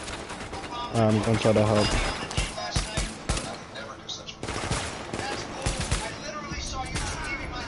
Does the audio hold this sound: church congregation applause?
no